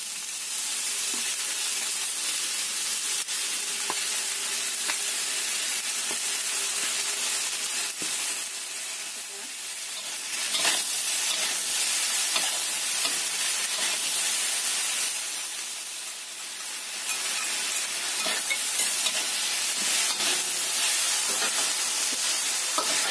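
Tofu frying in a pan with sweet soy sauce added, a steady loud hiss and sizzle of steam that swells twice as more liquid hits the hot pan, close and continuous with no talk.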